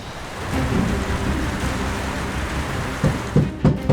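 Steady rain pours through a Roblox game scene while low thunder rumbles throughout, with a few sharper thunder cracks near the end and no voices.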